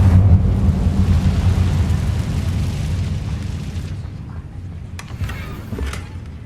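The Incendio fire spell in Hogwarts Legacy erupts as a loud, roaring burst of flame that rumbles and slowly fades, followed by a few faint crackles, with no talk.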